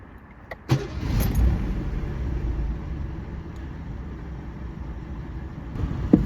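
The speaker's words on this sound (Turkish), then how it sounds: "Tüm işlemler tamamlandıktan sonra aracı çalıştırıyoruz." A car's engine turns over and settles into a low steady idle after a no-start repair, with a click and brief cranking near the start, then a quiet, even hum.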